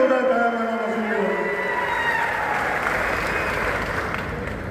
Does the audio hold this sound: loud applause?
yes